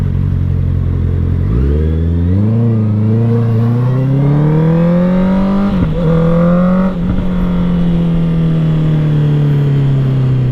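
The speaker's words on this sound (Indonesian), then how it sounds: "gue buka gas, ini responnya, ini motor responsif banget." A 2020 Honda CB650R motorcycle revs up hard and holds a high, climbing engine whine for several seconds with brief throttle blips, close and loud with no talking.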